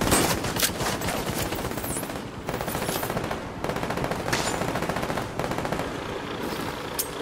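Dense gunfire and explosions from the video game The Division 2 roar without letup, with rapid bursts of fire layered over a constant loud rumble.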